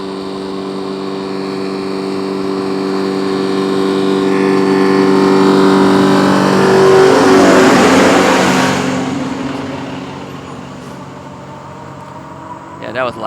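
Tree cutting service machinery outside, a loud engine that swells and roars for several seconds before fading away, heard alone without talk.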